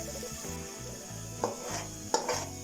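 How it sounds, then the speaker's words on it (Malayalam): Beaten salted egg scrambles in a pan with spinach and carrot, a quiet sizzle under soft scraping and stirring, with two brief spatula taps against the pan; no voices. "നമുക്ക് ബീറ്റ് ചെയ്ത് വെച്ച ഈ മുട്ട നടുവിൽക്കേണ്ട ഒഴിച്ചു കൊടുത്തിട്ട് 2 സ്ക്രാമ്പിൾ ചെയ്യാം കേട്ടോ"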